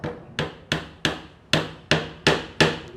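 Eight sharp hammer strikes from a multipurpose tool set's hammer ring out at an even pace, each crisp knock close and loud with a short decay, no voices.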